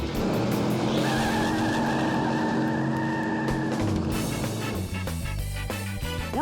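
Engines roar and rev continuously as limousines race on a Los Angeles highway, with tonal whines, tire squeal and skidding, loud and close throughout.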